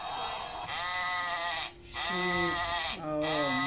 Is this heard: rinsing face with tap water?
no